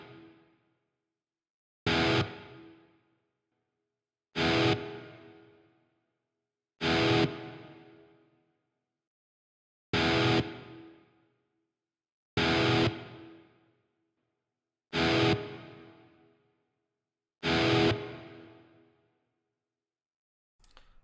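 Electric guitar played through the Archetype Nolly X amp plugin with reverb: eight loud, evenly spaced single strums, each cut sharply and followed by a short decaying reverb tail into silence.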